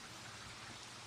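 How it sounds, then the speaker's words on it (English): Steady rain sound effect from a StreamYard rain setting, a soft, even hiss of patter and crackle with no breaks, faint and continuous with no voices. "last time I tried to use the rain setting on StreamYard"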